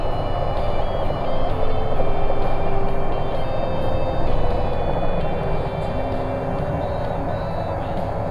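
Helicopter powered by a Rolls-Royce 300 turbine engine lifting off on a sightseeing flight at Royal Gorge, heard from inside the cabin as a loud, steady whine with a constant droning rotor rumble throughout.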